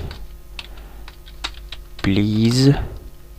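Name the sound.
typing on a computer keyboard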